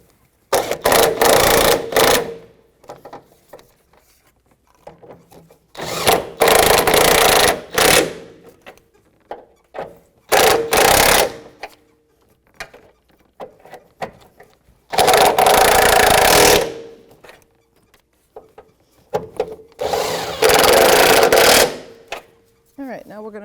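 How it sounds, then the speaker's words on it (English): Tightening the front shock absorber nuts on a 2008-2012 Jeep Liberty with an 18 mm socket on a power tool, heard as six loud, close bursts of whirring, rattling drive separated by short pauses. "I'm going to take my 18 millimeter socket and I'm going to snug these up in a crisscross pattern"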